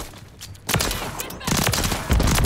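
Pistol gunfire in Modern Warfare 3, rapid loud shots cracking over a dense layer of battle noise, with bursts of fire continuing throughout.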